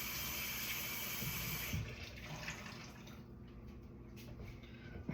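Tap water running steadily over a key lime being rinsed in a sink, a faint, continuous splashing that softens partway through, with no talking.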